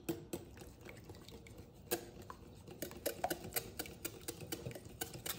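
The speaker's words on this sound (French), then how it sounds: "Ensuite, j'ajoute un œuf entier et je mélange le" Greek yogurt and a whole egg mixed together in a bowl, with soft, close scraping and light clinks that repeat irregularly at low volume.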